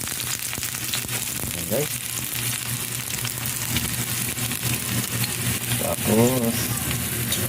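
Garlic and onion fry in a pan for Filipino afritada with a loud, close, continuous sizzle and occasional stirring scrapes, while a person talks briefly over it.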